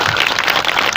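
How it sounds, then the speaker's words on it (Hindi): A crowd gathered at a victory celebration for a BJP MLA from Mewar claps together in dense, continuous applause, close and steady throughout with no voices heard. "जना ताली बजाने एमएलए साहब आभार व्यक्त करो"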